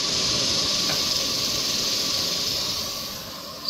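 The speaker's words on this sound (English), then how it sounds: "So the steam is coming out of the pressure cooker now" A pressure cooker vents steam at a campsite in a Texas state park, a loud, steady hiss that runs unbroken and fades slightly at the end.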